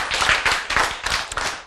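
An audience at a Korean lecture claps in a brief burst of close, irregular clapping that lasts under two seconds, with no talking.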